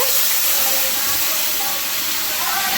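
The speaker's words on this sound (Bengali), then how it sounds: "টমেটো কুচি দিয়ে দিচ্ছে তেলের মধ্যে" Chopped tomato hits hot oil already seasoned with bay leaf, cumin and dried chilli, giving a loud, steady hiss of frying that runs unbroken throughout.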